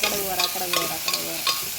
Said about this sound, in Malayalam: കടുകൊക്കെ വറുത്തു.